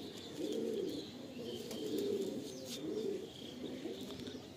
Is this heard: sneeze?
no